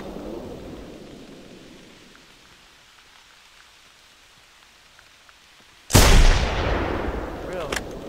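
A single loud gunshot fired at a T-Rex in the video game theHunter: Primal, a sudden sharp blast after a quiet stretch, followed by a long rolling echo over steady rain-like ambience.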